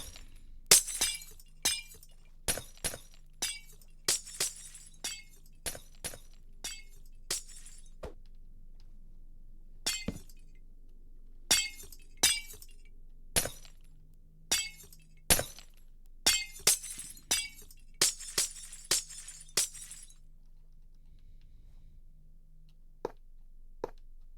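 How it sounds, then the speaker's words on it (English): Glass breaking in the video game Minecraft, sharp shattering clinks repeating irregularly dozens of times over a low steady hum, clear and fairly loud. "And this breaking glass is not helping either."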